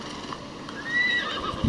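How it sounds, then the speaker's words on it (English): A horse in Assassin's Creed Shadows gives a short, clear whinny over soft background game ambience, followed by a faint hoof clop at the end. "I'll just mount my horse."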